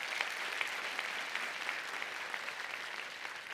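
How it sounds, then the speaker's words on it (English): Steady, dense applause from a large audience at a university spring graduation ceremony in Cape Town, a continuous wash of clapping at moderate distance throughout. "Let's give that to a round of applause to the work."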